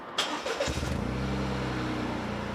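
A Toyota GR Corolla's 1.6-liter turbocharged three-cylinder engine cranks and catches, then settles into a steady, even idle, heard close and loud with no talking.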